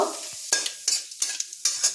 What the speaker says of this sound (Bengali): একটা শুকনো লঙ্কা ফাটিয়ে দিলাম একটা তেজপাতা দিয়ে দিলাম আর দিচ্ছি গোটা জিরে এবার এটাকে আমি ভালোভাবে নেড়ে নেব